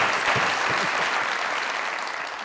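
Studio audience applause on a comedy talk show, a dense burst of many hands clapping at once, loud and sustained before tapering slightly.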